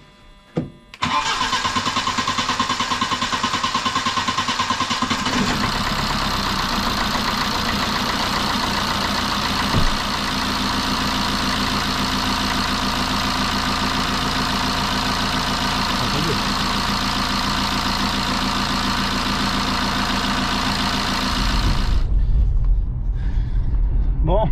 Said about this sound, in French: je vous laisse seul avec le moteur